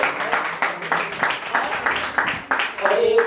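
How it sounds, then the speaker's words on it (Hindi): Loud audience clapping at a poetry gathering, falling into a quick rhythmic beat of sharp claps with voices heard alongside. "इनके लिए पहले जोरदार तालियां बजाएं"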